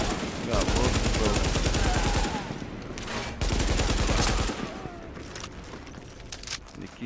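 Rapid bursts of AK rifle fire in Tom Clancy's The Division ring out loud and close, with a short pause before another long stretch of automatic shooting that tapers into lighter scattered shots.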